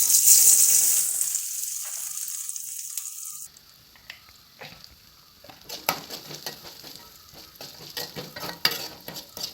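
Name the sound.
coconut roasting in a pan for chickpea curry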